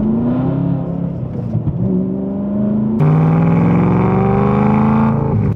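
A straight-piped BMW M3 E92 with a rusted-out exhaust roars loudly and steadily at close range, with harmonic engine tones rising and a sharp jump in intensity as revs climb partway through.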